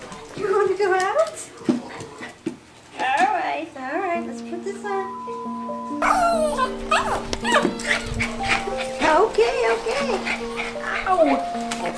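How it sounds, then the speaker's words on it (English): An excited pet dog yips, whimpers and barks in rising high-pitched bursts before going out for a walk, close and loud, with a person talking to it in between the cries. "You gotta see how excited this dog gets."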